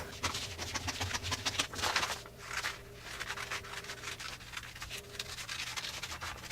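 Fabric is cut along a sleeve pattern for a blouse, with continuous close rustling, scraping and rubbing strokes and soft repeated snips that carry on steadily without talk.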